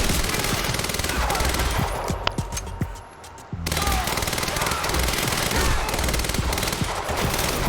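Rapid, loud bursts of advanced SMG fire in the video game Quantum Break, sustained close-up rattling that breaks off briefly and then resumes.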